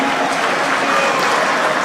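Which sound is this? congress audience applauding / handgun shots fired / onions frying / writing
congress audience applauding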